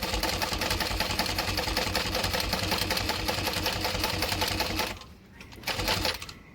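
Sewing machine running a top stitch on a garment, a fast rapid-fire mechanical clatter sustained at close range for several seconds, then a brief stop and a short final burst.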